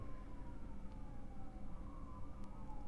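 Emergency vehicle sirens wail at a distance in a steady, drawn-out tone over a constant low rumble, faint and unaccompanied by talk.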